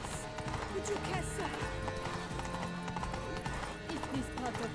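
Horse hooves clatter in a steady galloping rhythm in The Witcher 3: Wild Hunt, under a dense layer of game music and effects, with a voice briefly heard.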